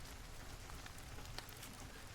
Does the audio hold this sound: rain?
yes